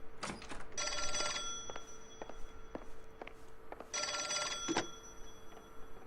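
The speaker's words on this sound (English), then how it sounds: "Answer the phone." A telephone in the video game L.A. Noire rings in two loud, clear bursts of rapid bell trills separated by a pause, with faint background ambience between rings.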